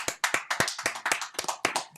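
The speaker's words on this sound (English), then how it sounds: "Just do some clap on the background." A small group of studio guests claps in a loose, uneven rhythm, a handful of close, sharp hand claps repeating about every quarter second.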